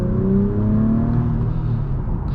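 A 2024 Acura TLX Type S engine in sport mode hums and revs close up, a steady loud engine drone with rising harmonic tones that hold through the short stretch.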